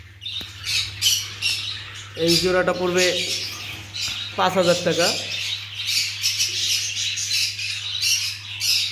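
Black lovebirds and English budgerigars squawk and chirp in a steady chatter, with two louder bursts of harsh calls standing out, while someone talks over them throughout.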